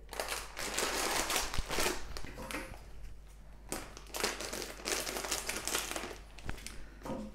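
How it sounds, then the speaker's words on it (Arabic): A 900-gram plastic bag of dried chickpeas is handled in a kitchen, giving quiet bursts of crinkling plastic and the rattle of shifting hard beans, with short pauses between the rustles. "عندي أول شي هون كيس حمص"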